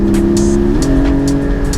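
A loud, close 2021 Porsche 718 Spyder engine drones with a steady, deep note that shifts pitch slightly, with sharp ticks and clicks popping over it.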